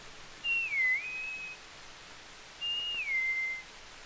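A wood pewee's call, imitated by a human whistle: two clear slurred whistled phrases, each dipping then rising, separated by a short pause and heard alone in a quiet setting.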